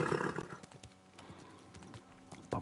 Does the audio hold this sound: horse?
yes